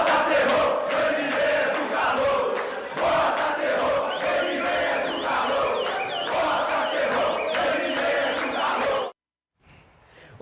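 Atlético football fans greet a newly arrived signing in the early morning hours with loud, sustained crowd chanting and rhythmic cheering that runs for about nine seconds, then cuts off abruptly before faint noise resumes.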